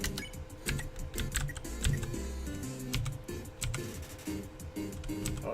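Rapid, steady typing on a computer keyboard during an Undertale-style game session, with dense, close key clatter running continuously and no talking.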